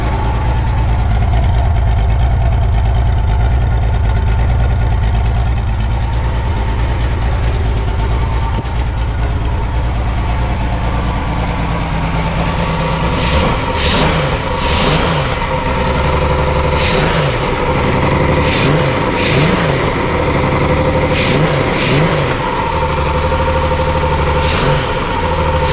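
A 1988 Honda Goldwing GL1500 motorcycle, revived after sitting outside for 21 years, runs loud and close with a steady idling drone, then settles into a rhythmic pulsing beat with periodic sharp ticks in the second half.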